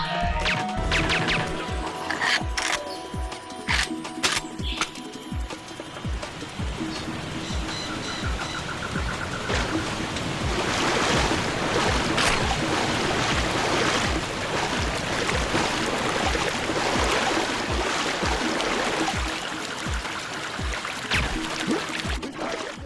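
Rushing waterfall in the jungle level of the video game Perfect Dark Zero, a steady, loud wash of falling water throughout with sharp game impacts and crashes scattered over it.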